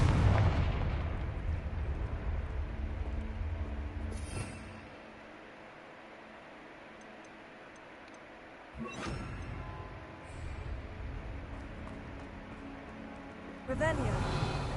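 A Confringo blasting spell explodes in a wizarding video game: a loud burst at the start, then quiet, with further booming blasts around the middle and at the end over game ambience.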